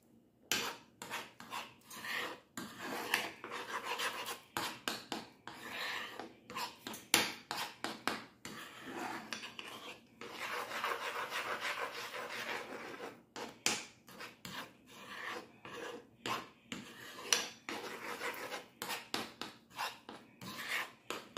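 Eggs are softly scrambled in a pan for a breakfast Mexican pizza: a utensil scrapes and rubs against the pan in repeated short strokes, quiet and close, with no talking.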